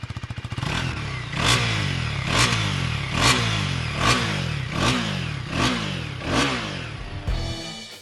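A KTM 390 Duke single-cylinder motorcycle revs hard in a series of about seven sharp blips, each rising and falling quickly, loud and close with a rough, raspy bark and no talk.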